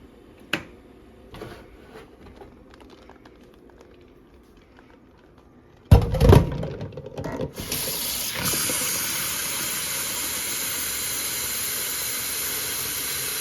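Tap water runs steadily and loudly over boiled eggs in a pan for rinsing, a sustained hiss that starts after a brief clatter and continues unbroken to the end.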